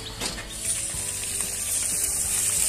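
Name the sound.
fish head frying in a pan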